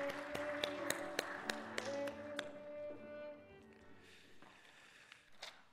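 A church congregation at a Sunday service claps in celebration, sharp claps rising over organ-like sustained tones before fading into lingering notes.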